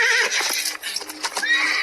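A horse whinnies loudly and close by in a rising, quavering call, with faint hoof clip-clop underneath, heard in a rural farm setting.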